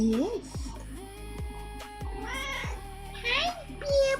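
A pet cat in a happy cat habitat meows several times in short rising and falling calls, close and clear, with some faint background tones between them.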